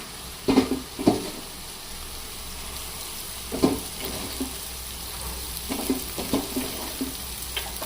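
Finely chopped cabbage tipped into hot oil while cooking a cabbage and egg curry, sizzling steadily with a few louder bursts of stirring and scraping, close by with no talk.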